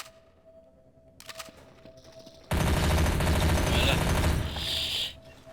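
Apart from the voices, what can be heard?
gunfire in Garry's Mod video game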